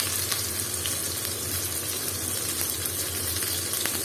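Loitta (Bombay duck) fish frying in hot oil for a crispy fish fry makes a dense, even hiss of bubbling oil. It is steady and close, with faint crackles and no voices.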